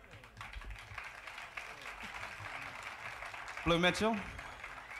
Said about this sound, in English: how about a nice round of applause for our trumpeter,